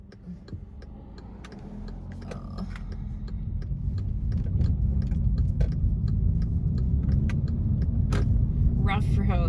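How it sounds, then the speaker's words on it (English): Pickup truck rolling along a rough rural farm road near Peggy and Fashing, Texas, a steady low engine and road rumble that swells slightly louder partway through, with scattered creaks and rattles and a voice talking over it. "I'm gonna let that truck just go ahead and go"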